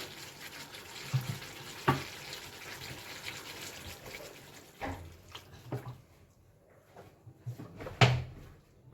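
Water is poured into a pan of stuffed potatoes (dum aloo) cooking on the stove, a splashing trickle broken by a couple of sharp utensil clunks near the start and end.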